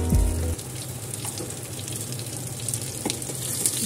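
Sliced onion fries in spiced masala with a steady, close sizzle and hiss, after a brief clatter at the start, with occasional soft stirring scrapes and no talking.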